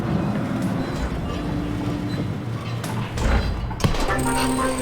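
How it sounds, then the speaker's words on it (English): A train pulling into a station in the video game The Last Show of Mr Chardish, with a steady rumbling roll, scattered clanks and a brief thump near the end, heard at moderate level. "A train arriving at the station."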